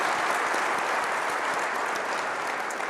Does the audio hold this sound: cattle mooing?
no